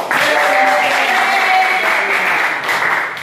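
An audience applauds loudly, with dense, sustained clapping from many hands that holds steady for about three seconds before thinning slightly at the end.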